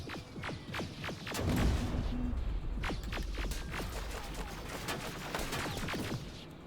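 Sustained gunfire during a firefight in Terminator: Resistance, with repeated sharp shots and bursts over a low rumbling bed, steady and fairly dense throughout.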